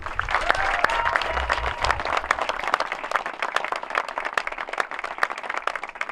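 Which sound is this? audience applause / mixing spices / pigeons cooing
audience applause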